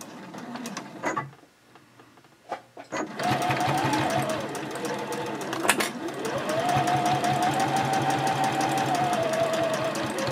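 A sewing machine stitches a zipper onto a fabric pouch at a 3.0 stitch length, with a few short bursts before running in a steady, loud, close-up rhythmic whir for several seconds.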